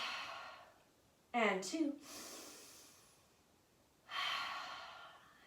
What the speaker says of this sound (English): And taking 3 full deep breaths right here. Huge exhale.